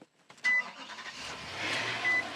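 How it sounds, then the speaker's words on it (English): A hot 2023 Nissan Armada Platinum V8 engine cranks and catches, settling into a steady low rumble with a couple of short electronic beeps. "You can hear the rumble of the V8."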